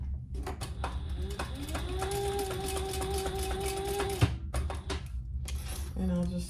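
Sewing machine running a steady stitch across a fabric crossbody sling bag, a continuous mechanical whir for about four seconds, then stopping and briefly restarting, with soft handling noises and a faint voice.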